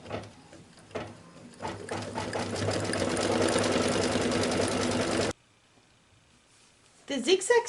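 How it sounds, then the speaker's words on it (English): A domestic sewing machine runs a steady zigzag stitch around satin appliqué fabric, whirring loudly for several seconds after a few short starts, then stops abruptly; a brief clatter follows. "I will put it back into the machine, and it's going to run a zigzag stitch around my satin to secure it even more"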